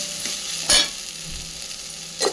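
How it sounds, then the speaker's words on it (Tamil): Onion sautéing with ginger garlic paste in a hot pan, a soft continuous sizzle broken by a couple of short stirring scrapes, close and fairly quiet. "நல்லா வதக்கி விட்டுறணும்."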